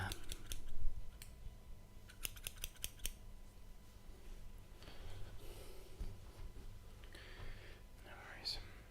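Close scissors snip hair during a barber-style haircut, a few quick crisp cuts clustered near the start followed by softer rustling and handling, with quiet soft-spoken talk in the background.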